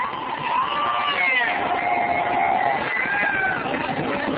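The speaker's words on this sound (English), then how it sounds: "can hear the shouting with all the crowd that had gathered there" Crowd gathered to watch a domed building demolition, a dense, distant wash of shouting and cheering voices that holds steady throughout, blended into one continuous roar.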